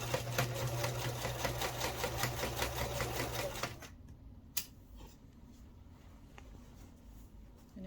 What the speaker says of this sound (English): if you're like me and learning a sewing machine, because like I said, this is my first time stitching with this, go slow